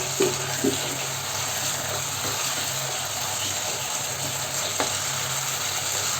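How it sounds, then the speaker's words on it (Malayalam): Egg goes into a tomato stir fry in a hot pan, a steady bright sizzle with occasional scraping stirs and light clatter, close up and continuous, no talking. "നേരത്തെ തയ്യാറാക്കി വെച്ചിരിക്കുന്ന എഗ്ഗ് കൂടി ഇതിലേക്ക് ചേർത്തിട്ട് ഒന്ന് മിക്സ് ചെയ്തെടുക്കാം"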